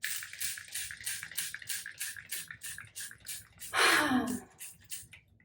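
A rapid series of short fine-mist sprays of facial water mist pumps in a steady rhythm close up, followed by a longer hissing burst before falling quiet.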